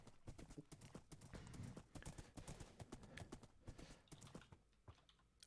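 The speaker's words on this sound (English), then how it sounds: "I think it's about a 3-minute ride on this horse" Horse hooves clip-clop in a steady, fairly close rhythm during a ride in a multiplayer video game, with faint typing and a brief whinny mixed in.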